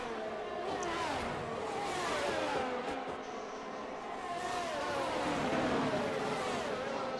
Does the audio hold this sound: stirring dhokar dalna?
no